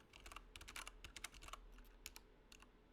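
Typing on a computer keyboard, quick irregular clicking of keys close up and quiet, with no voices.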